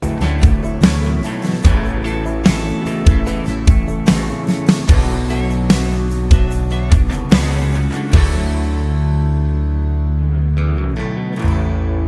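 Pop country outro, full band with drums, bass and guitars playing syncopated chord hits with crashes, loud and dense, thinning to a ringing decay in the final seconds, no voices.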